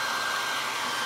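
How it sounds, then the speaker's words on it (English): A hair dryer blows in a steady, loud, unbroken whoosh while drying a toilet-paper-roll craft mask. "you want to try to hit that with the hair dryer as well"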